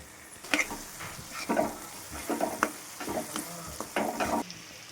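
Pepper and cumin powder being stirred into paneer bhurji as it fries in a pan, with a steady sizzle under repeated close scraping strokes of the spoon.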